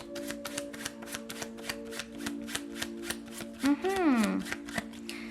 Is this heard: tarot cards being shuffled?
yes